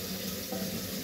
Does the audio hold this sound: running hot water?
yes